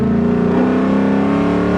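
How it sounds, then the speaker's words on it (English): A 500-horsepower Dodge SRT gives a deep, steady engine drone as it accelerates, heard loud and continuous from inside the car with no talking. "speed up a little bit, give it a little bit of gas"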